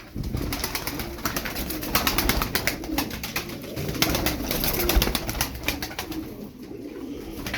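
Turkish performing pigeons murmur and coo together in their coop, a steady, close chorus with bursts of wing flutter and rustling building in the middle, then easing off toward the end.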